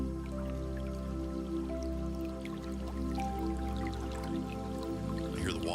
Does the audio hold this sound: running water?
yes